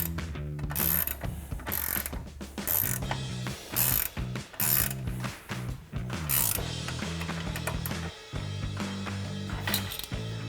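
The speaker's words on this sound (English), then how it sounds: "10mm socket on a ratchet in reverse this time" A hand ratchet with a 10mm socket, set to reverse, clicks rapidly and continuously up close during a truck coil-over install, in several bursts of fast metallic pawl ticking with brief pauses between.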